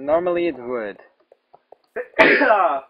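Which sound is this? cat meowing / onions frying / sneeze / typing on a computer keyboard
sneeze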